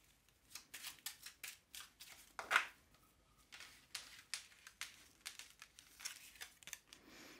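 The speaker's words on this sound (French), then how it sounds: "Alors, bon, j'ai retourné les cartes" Tarot cards are handled and flipped over, producing a run of soft, quick papery snaps and rustles close by in a quiet room, with no talking.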